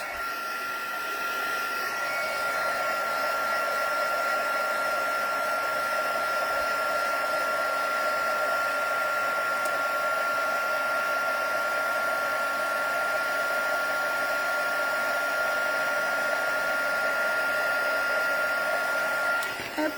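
A heat gun melts embossing powder with a steady, close blowing whir, like a hair dryer. It runs continuously for the whole stretch with no talking.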